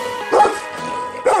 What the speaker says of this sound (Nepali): बाटैभरि कुकुर हुन्छन्, घरहरू यहाँ पनि भुकिगयो